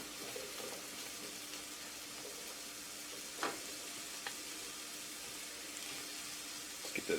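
Venison sizzles in a pan of butter and olive oil, a steady close frying hiss with a few faint clinks of a utensil.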